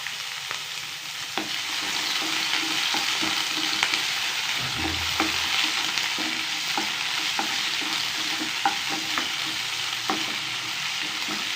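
Finely chopped small onions (shallots) fry in oil for mutton gravy with a constant close sizzle, broken by regular spatula scrapes and clinks against the pan.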